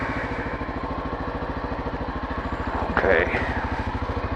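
Motorcycles on an adventure trail trip ride through Helsinki toward the Katajanokka harbor. The engines give a steady, close, rhythmic thumping throughout, and a voice briefly speaks over the running engine.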